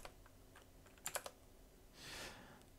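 A computer keyboard being typed on in a quiet room, a short burst of a few close, crisp key clicks followed by a soft muffled rustle, with no talking.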